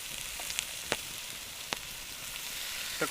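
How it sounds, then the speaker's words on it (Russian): Meat frying in a small kazan cooked outdoors at a forest cabin, giving a steady soft sizzle with a few sharp pops and crackles standing out. "И все это обжариваем."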